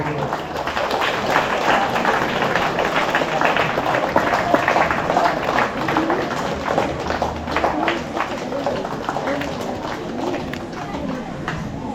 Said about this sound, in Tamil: உங்கள் பலத்த கரகோஷங்கள் மூலம் நமக்காக சேவையாற்றிய அந்த மனிதனுக்கான கௌரவத்தினை கொடுக்கும்படி தாழ்மையோடு கேட்டுக்கொள்கிறோம்